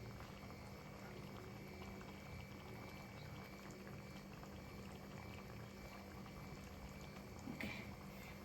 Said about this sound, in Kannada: ಹಾಗೆ ನಾನಿವಾಗ ಫ್ರೆಶ್ ಕ್ರೀಮ್ ಹಾಕ್ತಾಯಿದ್ದೀನಿ